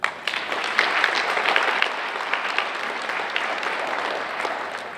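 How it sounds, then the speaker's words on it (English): Audience applause at a high school National Honor Society induction ceremony, a steady wash of many hands clapping that stays even throughout with no voices over it. "Round of applause."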